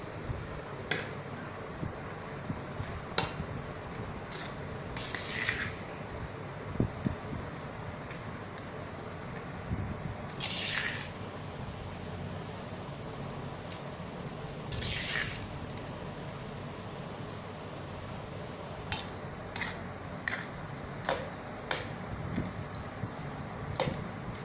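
Tamarind rice, puliyodharai, being mixed by hand or spoon in a vessel gives irregular soft squishes and occasional sharp clinks against the metal, close and steady, with no talking.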